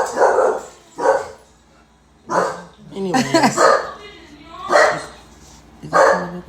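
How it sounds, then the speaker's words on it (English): Dogs bark in a neighborhood yard, several loud sharp barks in bursts with pauses between them, close by, and someone talks briefly between the barks. "So if anybody knocking, they gonna get the barking."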